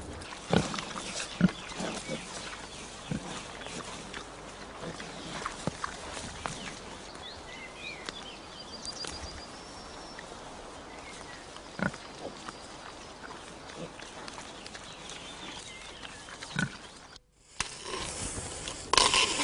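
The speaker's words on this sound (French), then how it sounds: "Holzer appelle affectueusement ses cochons ses meilleurs bras droits." Pigs dig and root in an orchard on a permaculture farm, with faint intermittent grunts and scraping scattered over a quiet outdoor background, ending in a louder burst of rustling near the end.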